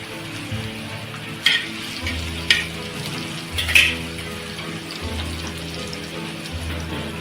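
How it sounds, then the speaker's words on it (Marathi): Garlic sizzling softly on a hot tava for crab fry, with a few clinks of a utensil and a low hum beneath. "तवा गरम करत ठेवलं आहे आपण टाकणार आहोत थोडंसं लसूण"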